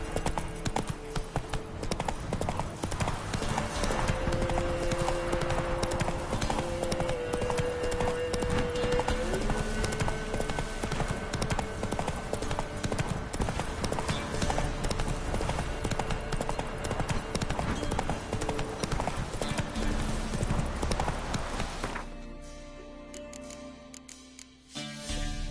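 Roach, Geralt's horse in The Witcher 3, trots with loud, steady rhythmic hoofbeats over a game soundscape, the clopping fading near the end.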